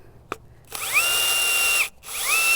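A power drill with a planting auger whines up to speed and runs steadily into garden soil, stops briefly, then spins up again. Close and fairly loud.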